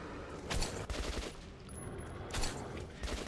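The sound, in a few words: gunfire from a video game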